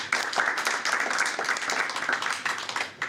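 Audience at a change-management seminar clapping for themselves, dense sustained applause from many hands filling the room, fairly loud and continuous.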